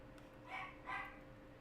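A dog barks twice in quick succession, faint and somewhat distant, over a low steady background hum.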